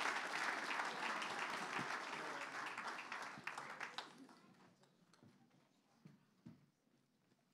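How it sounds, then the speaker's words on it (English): A church congregation at an Easter and baptism Sunday service applauds, with dense clapping for about four seconds that thins to scattered claps and quiet room noise. "Let's give them another little round of applause."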